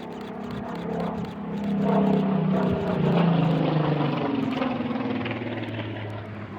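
A Supermarine Spitfire, registration G-RRGN, drones past with a steady, throaty propeller-engine roar that swells gradually, then holds loud and continuous with no voices.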